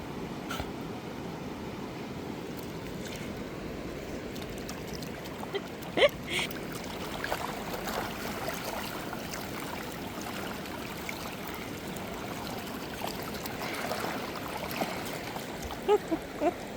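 Sea waves wash onto a beach that vehicles can drive on, a steady broadband surge and hiss running throughout with a few brief splashes and occasional faint voices underneath.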